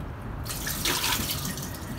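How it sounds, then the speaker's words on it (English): Warm tap water runs steadily over dried mushrooms being rinsed in a kitchen sink aboard a boat, a continuous close splashing hiss that starts abruptly and keeps going. "So you rinse them with warm water."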